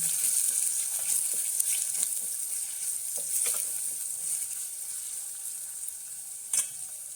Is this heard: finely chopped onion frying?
yes